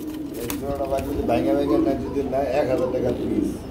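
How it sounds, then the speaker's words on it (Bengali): Pigeons kept in pairs at a bird market cooing in soft, repeated murmurs, heard up close beneath someone talking steadily the whole time. "এখানে দেখতে পাচ্ছি আরেক জোড়া কবুতর রয়েছে ভাই"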